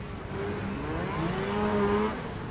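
Motocross bikes racing up a hill at an amateur finals event, their engines droning and rising in pitch together as they climb, heard from a moderate distance.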